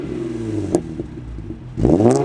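An Infiniti G35 with its muffler replaced by a straight-through exhaust revs up close by, a rising throaty engine note that drops away, then climbs again in a second louder rev near the end.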